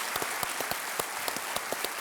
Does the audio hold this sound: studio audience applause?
yes